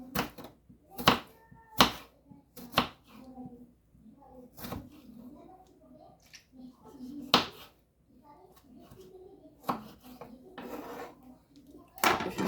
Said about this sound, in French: Je découpe comme ça en lamelles.